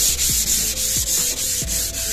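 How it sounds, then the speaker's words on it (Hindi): Hand sanding of wood veneer with 320-grit sandpaper, a steady close-up rubbing with repeated back-and-forth strokes and a faint low hum underneath, with no talking. "और 320 नंबर का रेगमाल लगाएंगे पूरे अच्छे तरीके से सभी पर"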